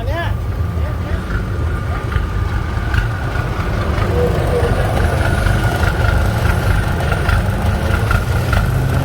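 A five-cylinder car engine runs steadily at a slide drifting event, a loud continuous low rumble close by, with faint voices mixed underneath.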